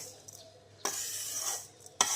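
Food being mixed in a pan produces scraping and clinking strokes, a couple of louder sweeps standing out over a quiet background.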